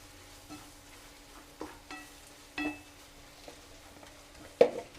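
Coriander powder roasting in a pan for a chicken curry, with quiet, faint sizzling and a few soft stirring scrapes and clinks of a spoon against the pan, no voices.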